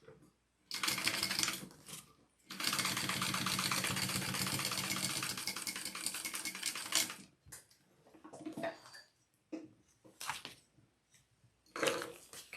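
A sewing machine top stitches a seam, running in a long steady burst of several seconds with shorter stop-start runs before and after, close and clear with no talk.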